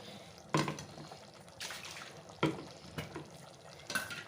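Water is poured into a cooking pot of Muslim dhalcha, a lentil dish with green chili and Kashmiri chili powder, heard as a few soft, brief splashing bursts in a quiet kitchen.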